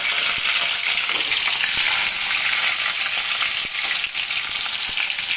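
Chopped tomato sizzling in hot oil with whole cumin, a loud dense hiss that stays constant, with a few faint clicks of utensils and no speech.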